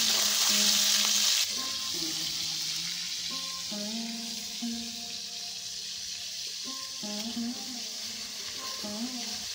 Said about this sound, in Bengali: চিংড়িগুলো সরষের তেল দিয়ে ভেজে নিচ্ছি।